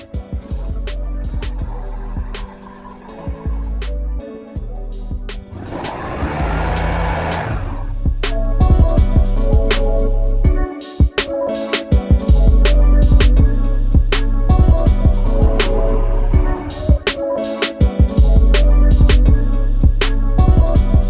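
A Honda Vario 125 scooter engine starts and keeps running close by, a loud buzzing idle broken by several sharp throttle blips and revs that rise and fall across the stretch.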